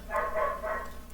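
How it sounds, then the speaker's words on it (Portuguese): A small dog barks about three times in quick succession, moderately loud and slightly distant, with a steady low hum underneath and no talk. "Opa, o cachorrinho tá latindo aí."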